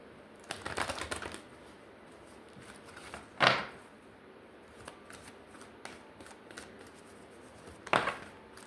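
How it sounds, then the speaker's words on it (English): Tarot cards being shuffled by hand, soft riffling and sliding close by with a few sharper louder bursts, quiet and with no talking. "Let's shuffle."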